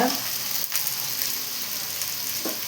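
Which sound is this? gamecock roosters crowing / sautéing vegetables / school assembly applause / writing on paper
sautéing vegetables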